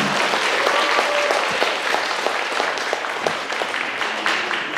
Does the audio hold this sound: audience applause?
yes